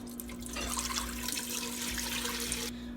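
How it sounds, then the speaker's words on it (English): Broth being poured into a pot on a stove for potato soup, a steady close splashing stream that starts abruptly, runs about two seconds, then stops. "We're gonna add the broth."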